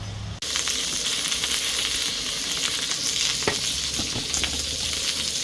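Onions stir-frying in a wok for beef in oyster sauce give a loud, continuous close-up sizzle that starts abruptly, with occasional scrape and clatter of stirring and no voices.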